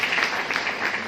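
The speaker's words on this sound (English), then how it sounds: "can we have a big round of applause for Kumari Ratna" A brief burst of audience applause at an excellence awards event honouring a college principal, a dense patter of many hands at moderate loudness, continuous through the short moment.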